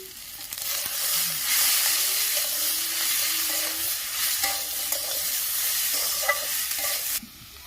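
Cut brinjal pieces with fried potato fry and get stirred in a pan for a drumstick-flower curry, a steady loud sizzle with scraping stir strokes running throughout, cutting off near the end.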